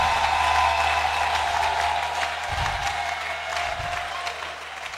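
A church congregation applauds loudly in praise of Jesus, a sustained wash of clapping and crowd noise that holds steady and fades slightly toward the end, with no one speaking over it.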